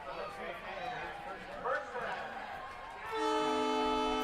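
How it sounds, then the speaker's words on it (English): Voices and background noise at a 2023 Springfield at Portland football game give way to a loud, sustained train whistle that sounds out over the final second or so. "And there's that train whistle."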